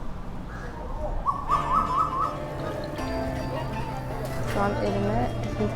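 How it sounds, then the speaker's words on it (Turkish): Birds chirp and call repeatedly along a Penang street, with several quick bright trills over a busy street background while people talk nearby. "Ya zaten burada kuşlar enteresan ötüyorlar da canları isterse"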